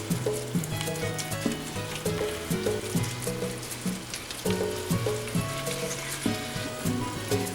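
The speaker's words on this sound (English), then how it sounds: "So my meat has been browning for about 2 to 3 minutes now." Ground sirloin browns in a hot pan for picadillo, giving a steady close crackling sizzle with occasional scraping stirs throughout.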